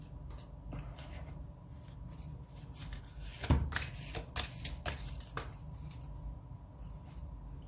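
Tarot cards are shuffled by hand in a quiet room, a series of soft, papery riffles and slaps, with a small cluster of sharper flicks in the middle.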